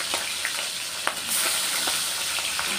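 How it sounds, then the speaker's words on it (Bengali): Fish coated with salt and turmeric frying in oil on a small gas burner, giving a continuous close sizzle punctuated by sharp spitting pops, with no talking. "তার উপরেই ফটফট করে ফাটছে।"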